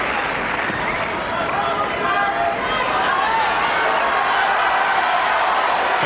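A Wimbledon tennis crowd in 1998 grows rowdy, with a dense, continuous roar of chatter, applause and cheering that fills the stadium at an even, loud level.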